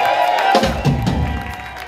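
Audience applause and cheering for the band at a live club show, a dense crowd roar of clapping and shouts filling the room.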